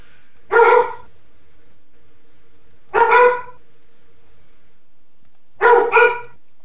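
A dog named Casper barks three separate times, each bark a short double yip, clear and fairly close against a quiet background with a faint steady hum.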